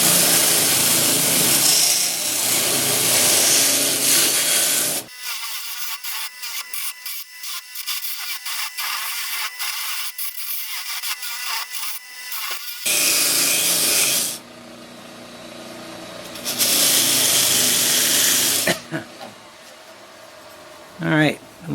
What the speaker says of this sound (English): We're going to use our mop sander to do this.